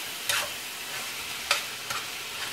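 Frying spaghetti squash dinner ingredients hiss steadily in a pan while a few quick stirring strokes scrape through, close and moderately loud.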